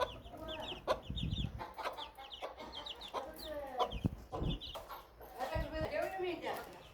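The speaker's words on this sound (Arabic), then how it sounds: "كتاكيت كتاكيت زينتهم ما شاء الله دايرين بحال السمانه" Hens and small chicks on a city rooftop cluck and peep repeatedly, close by and fairly soft, while someone talks over them.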